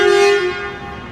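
One loud, close car horn sounds on a Manhattan street in Midtown, a single sustained honk that fades out quickly.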